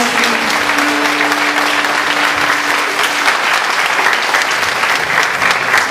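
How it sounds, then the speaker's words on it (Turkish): Loud, sustained applause from a concert audience at a baglama course performance, dense and even throughout, with a faint held tone in the background early on. "Alkışlar gelsin."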